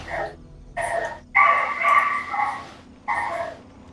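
Small dog barking and yipping in short bursts close by, several separate yaps with brief pauses between them, with no talking over them.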